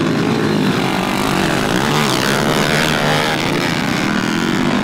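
A motocross motorcycle engine snarls continuously and loud as the rider tackles rough, bumpy terrain and jumps, the revving buzz steady with slight fluctuations throughout.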